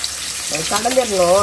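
Shallots sautéing in a pan for sambar give off a steady sizzling hiss throughout, with a voice faintly audible over the second half.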